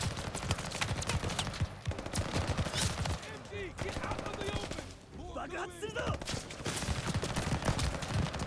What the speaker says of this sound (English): they're shooting us through the grass